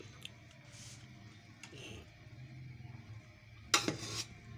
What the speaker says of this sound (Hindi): अब मैं ये मसाला जो है ये मिक्स कर रही हूँ।